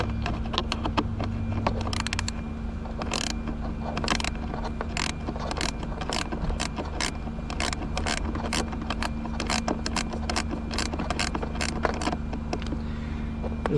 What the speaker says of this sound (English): go ahead and use my gear wrench